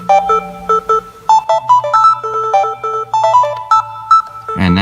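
Yamaha Tenori-on grid sequencer playing a short looping pattern of bright bell-like synth notes over a low sustained tone with a changed voice, ending in a sudden louder burst.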